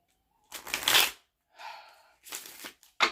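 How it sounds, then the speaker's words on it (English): Tarot cards are shuffled up close in three short bursts of riffling and flicking, with quiet pauses between them. "can't even shuffle right now."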